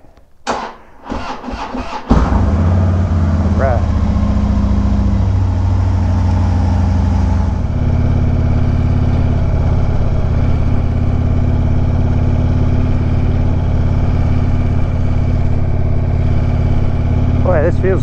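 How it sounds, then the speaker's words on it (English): A motorcycle engine cranks with a few short bursts, then catches and settles into a steady, loud idle that runs to the end, heard outdoors on a mild day. "Let's turn the bike on. Wait for the fuel pressure to come up."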